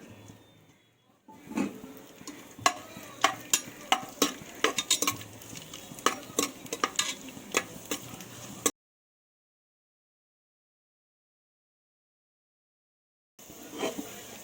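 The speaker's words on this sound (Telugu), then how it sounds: "ఇప్పుడు తీసి పెట్టుకున్న జీడిపప్పు కిస్మిస్లు అయితే ఇందులో వేయించుకుందాం" Cashews and raisins fry in hot ghee, with a busy run of sharp metallic stirring clicks and scrapes over a light sizzle, then a long silent gap before the sound resumes briefly.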